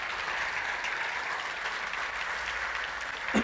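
Congregation in a church applauding, a dense, steady wash of clapping sustained throughout, fairly close and even in level.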